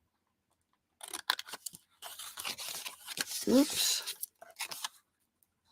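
Scissors snip through paper to cut out a square for a storybook gnome craft, with a run of close, crisp cuts and rustling. A brief exclamation is spoken partway through.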